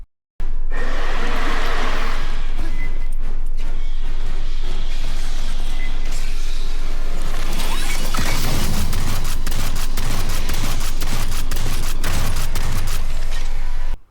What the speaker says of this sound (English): The X-45 Bombard is a new burst fire weapon that shoots 4 bullets each time.